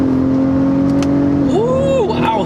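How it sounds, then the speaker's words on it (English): 2019 Acura RDX Platinum Elite engine humming steadily, then rising in a quick rev on a paddle-shift downshift to a lower gear, heard from inside the cabin. "if I downshift a few gears down to 4"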